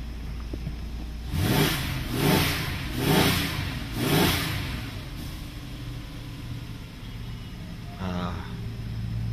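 Warmed-up car engine idling steadily, with four evenly spaced swells of a rev rising and falling before settling back to a steady idle rumble; a brief voice near the end.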